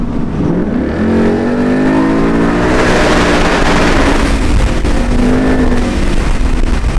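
A bagged Ford Mustang GT accelerating hard, its loud V8 roar climbing in pitch, dipping through a gear change, then climbing again, close and sustained for the whole stretch.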